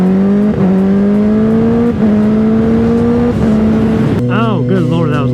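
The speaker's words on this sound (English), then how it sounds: "Get some more exhaust noises in there." A car's exhaust drones steadily at interstate speed, pitch rising slowly between gear shifts, loud and close, with a voice briefly at the end.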